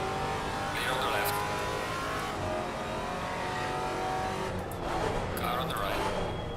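A GT4 car in Assetto Corsa Competizione skids with its wheels locking up, giving two swelling squealing bursts over a continuous engine roar, alongside an overlaid speaking voice.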